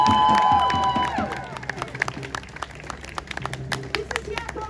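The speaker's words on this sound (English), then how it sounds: "Give him a big round of applause." Scattered clapping from a protest rally crowd outdoors, sharp uneven claps building in after a stretch of voices and background noise, with people talking and calling out over it.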